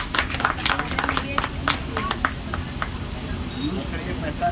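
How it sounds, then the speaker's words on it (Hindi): A short burst of applause from a gathering of self-help group women at a bank loan event, scattered claps fading out within a couple of seconds beneath a speaking voice. "तालियां"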